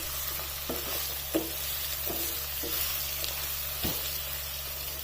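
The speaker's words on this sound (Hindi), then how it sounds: "अब इन सारे मसालों को बहुत अच्छी तरह से इसमें मिक्स कर लेना है।" A spoon stirring spices into potato curry in a pan, scraping in a steady rhythm over a continuous sizzle from the pan, close, with a couple of sharper knocks against the pan.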